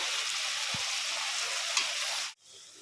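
Onions frying in hot mustard oil for a mushroom curry, giving a steady close broadband sizzle with a single brief clunk of a utensil near the start, before the frying cuts off abruptly toward the end.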